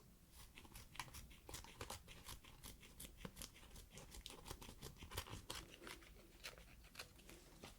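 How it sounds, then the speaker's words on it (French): Small scissors snip a short strip of bandage in a close, quiet setting, a run of crisp repeated cuts with faint crinkling between them. "On va couper une petite bandelette."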